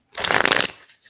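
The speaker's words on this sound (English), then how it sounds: "I will just pull one card." A deck of tarot cards is shuffled in one brief, close, riffling burst that swells and then trails off, with no voices.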